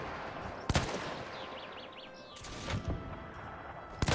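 Sharp, heavy blasts of howitzer artillery and gunfire in Between Empires boom out three times at irregular intervals over a quieter battlefield bed, with faint chirping and whistling sounds between the shots.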